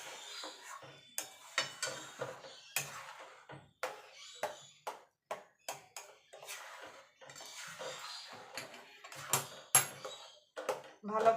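Sandesh mixture being stirred in a pan at home, with irregular scraping and clinking strikes of utensil against metal, fairly close, while someone talks over much of it.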